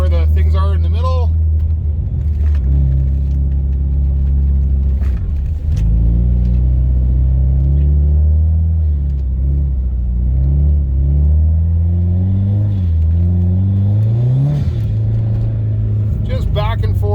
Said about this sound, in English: So I'm gonna just kind of drive up and down the aisles here, little e-brake here, a little bit of throttle, do a little e-brake here.